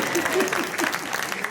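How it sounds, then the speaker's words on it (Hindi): An audience at a Hindi poetry recitation claps in a brief, dense burst of applause, loud and close, while a voice comes through faintly over it. "मुझे ताली बजा के बताओ कि मुझे भी जवाब देना है।"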